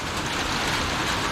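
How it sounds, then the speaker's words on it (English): Heavy rain pours steadily, a dense, loud, unbroken hiss with no pauses. "it is raining so hard, and it has been for at least an hour"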